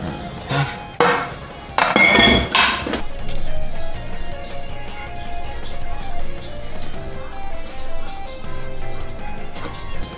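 Chocolate lava cake batter being stirred and folded in a bowl: a few sharp clinks and knocks of the utensil early on, then steady, soft scraping and sloshing that continues throughout.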